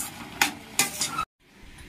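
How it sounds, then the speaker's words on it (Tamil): Rava kichadi stirred in a pan makes a soft, close scraping and sizzling, with two or three sharper strokes before a sudden cut to quiet and a faint return. "லைட்டா கிண்டிக்கிட்டே இருங்க"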